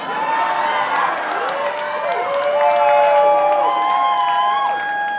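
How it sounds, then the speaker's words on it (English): A convention audience cheering and whooping, with many overlapping shouts and rising calls forming a loud, sustained crowd roar throughout, some clapping mixed in. "Now, I know you're cheering"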